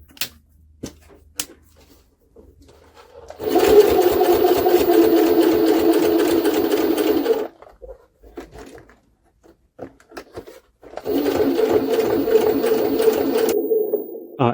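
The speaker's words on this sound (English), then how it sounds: "See, now the needle has inserted into the material and now it's lifting back up." A Jaguar SJ-23 sewing machine stitches through four layers of leather in two loud, steady runs of rapid needle strokes, separated by a short pause with faint handling noises.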